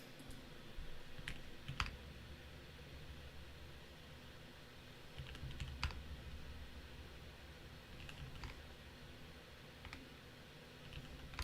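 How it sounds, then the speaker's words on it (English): Typing on a computer keyboard: faint, scattered key clicks in small bursts over a quiet background hum, with no talking. "typing is so nice"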